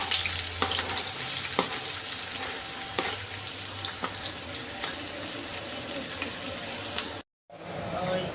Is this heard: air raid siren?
no